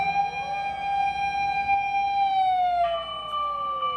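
A toy fire truck's loud, steady electronic siren wails continuously with a tinny, toy-like tone, shifting pitch once partway through.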